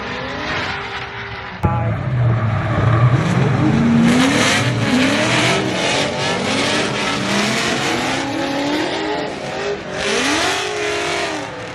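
A 500 hp Mitsubishi Lancer Evolution race car at the GridLife Midwest track event, its engine revving and rising through repeated gear shifts, loud and close, with other cars and tire noise around it and no speech.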